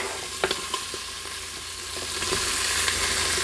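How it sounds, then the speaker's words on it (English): Sliced large yellow onion sizzling in a pan with bacon: a steady, loud frying hiss that swells slightly toward the end, with a few soft clicks of stirring near the start and no talking. "we are going to go ahead and add in the onion. So this is 1 large yellow onion, halved and sliced."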